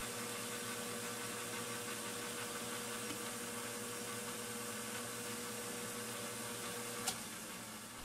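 A metal lathe takes a facing cut across a model boiler disc, machining a gasket sealing surface. It gives a steady, even mechanical drone throughout, with one brief sharp tick near the end.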